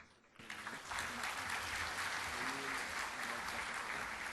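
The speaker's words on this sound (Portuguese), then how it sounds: "agradecimento à presença da senhora Mariana, com a salva de palmas." Steady applause from a room full of people, sustained clapping that begins abruptly and continues evenly throughout.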